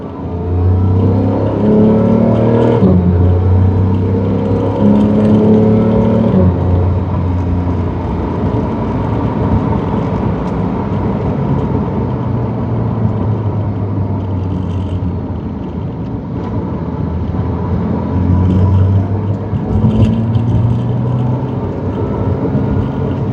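Steady engine drone from inside the cabin of a 2018 Porsche 911 GT3, the note rising and falling as the driver accelerates and shifts, loud and continuous throughout.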